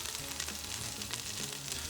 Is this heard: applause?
no